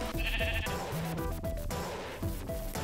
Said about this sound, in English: All I see is sheep.